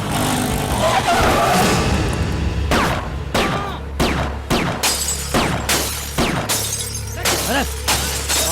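A car speeds through a chase in a South Indian action film, its engine drone running under a string of sharp crashes, shattering impacts and gunfire-like bangs that come in a rapid, loud sequence.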